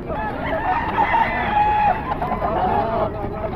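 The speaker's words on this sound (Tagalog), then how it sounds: "yung manok ni Boss Ken, oh" Chickens and a rooster at a cheap fowl market, crowing and clucking close by in a dense, continuous layer of bird calls with background noise throughout.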